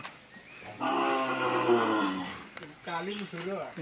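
A bull lets out a long, loud moo, then a second, shorter wavering moo after a brief pause.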